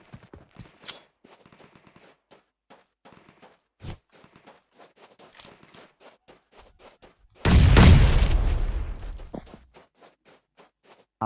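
A loud grenade explosion in PUBG Mobile erupts midway, with a booming low rumble that fades over a few seconds, after scattered sharp gunshots and clicks.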